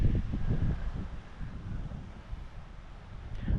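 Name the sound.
strong wind outdoors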